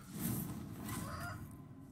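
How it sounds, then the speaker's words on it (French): Chickens in the video game Sekiro: Shadows Die Twice give a short burst of honking, clucking fowl calls, fairly loud and close over a dense game soundscape. "Oh mais par contre les poulets là ils vont me saouler."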